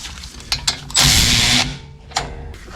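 A ratchet loosens 13mm caliper bolts on a 2021 Ford Ranger 4X4 during a rear brake job: a couple of sharp clicks, then a loud buzzing burst of rapid pawl clicking, then a final click, close up.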